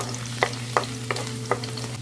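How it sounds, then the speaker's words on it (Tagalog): Garlic sautéing in hot cooking oil for a shrimp and patola soup, a steady low sizzle with a few sharp stirring clacks of the utensil against the pan, close and alone with no talking. "Ito, mukhang mainit na yung ating mantika. Kaya igisa na natin yung ating bawang."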